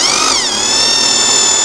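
A power drill bores holes for bolts in a corrugated metal roofing sheet, giving a loud, close, high-pitched whine that shifts in pitch as it bites and then holds steady.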